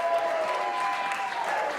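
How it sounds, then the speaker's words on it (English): Audience at a comedy festival show breaks into a short burst of dense, loud applause that fills the whole moment without pause. "That's some cheap applause, but I don't care."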